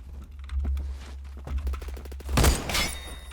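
Rapid bursts of SCAR SSR rifle fire in the video game Phantom Forces, quiet clicky shots in quick clusters with one louder crack mid-way, over a low hum.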